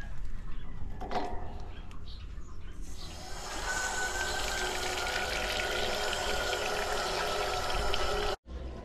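Steady rushing water pours and splashes out continuously as an 82-gallon water tank is drained, a broad hissing flow that grows fuller after a few seconds and runs on without pause.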